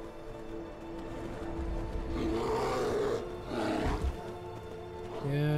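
A bear in the game Skyrim lets out deep, drawn-out roars, two heavy growling bursts over a low ambient background.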